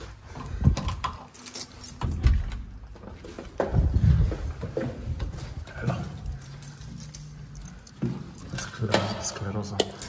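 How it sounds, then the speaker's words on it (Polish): Keys jangle and clink in short bursts amid handling noises, with someone speaking intermittently. "Delico, kluczyki są."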